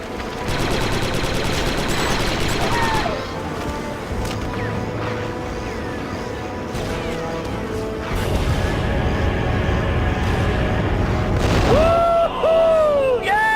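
Explosion of Sunfac's fighter on Geonosis in the Star Wars Republic Commando shooter, a loud booming blast amid rapid blaster-style gunfire and continuous battle noise, with game voices calling out over the din.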